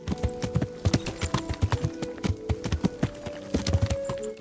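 Steady clip-clop of horse hooves in the video game Kingdom Come: Deliverance, a brisk rhythmic run of hoofbeats, close and fairly loud, with no one talking.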